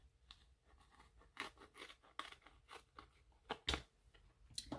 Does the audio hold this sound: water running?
no